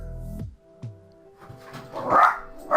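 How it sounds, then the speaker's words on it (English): Dogs barking indoors nearby, several sharp barks and yips in quick succession, growing louder and more excited toward the end. "sorry, that's just my dogs"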